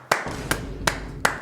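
Four crisp hand claps land evenly spaced and close by in a podcast studio, each sharp and distinct with brief quiet between them.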